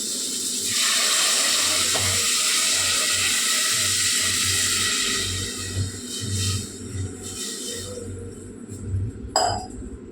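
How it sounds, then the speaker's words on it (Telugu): Water poured into a thickened curry in a cooking pot, a loud continuous splashing pour for about five seconds, then bubbling and stirring with a brief metallic clink near the end. "నీళ్ళు పోసుకుంటున్నా ఫ్రెండ్స్"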